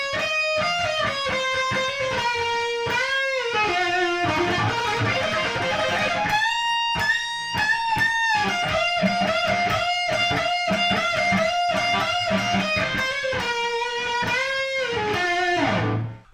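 Distorted electric guitar playing the opening part of a song, a fast punk riff with sliding runs up the neck, loud and continuous with no talking.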